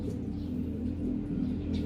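A pet pigeon coos in a low, steady, continuous murmur, close by and unaccompanied by any voices.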